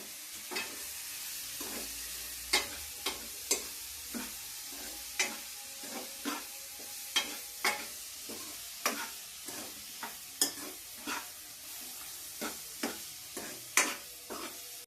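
Tomatoes sauté in a pan for Tamil fish curry, a low frying hiss punctuated by a regular series of sharp spatula taps and scrapes roughly every half second, close and alone with no voices.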